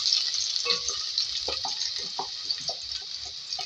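Chopped onions fry in hot oil with a steady bright sizzle, while a spoon stirs them close by with soft scraping knocks.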